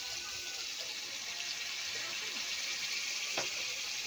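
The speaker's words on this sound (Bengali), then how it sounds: "একটু জল দিলাম" Water poured into a cooking pot of chicken curry on the stove, a soft steady wash of liquid with a faint sizzle underneath, continuous and close throughout.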